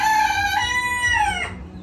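A rooster crows at a rural farm property, one loud, close call rising and then falling and breaking off sharply near the end, with no voices over it.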